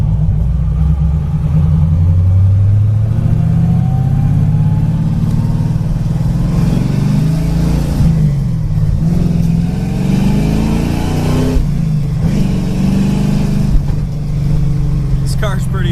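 A 1965 Impala Super Sport with a 454 engine and 5-speed idles with a deep, loud rumble, then rises and falls through several revs near the car.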